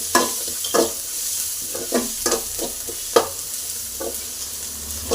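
Turmeric-spiced masala sizzling in a hot pan for a puffed-rice breakfast dish, a steady close hiss broken by repeated stirring scrapes and taps of a spoon against the pan.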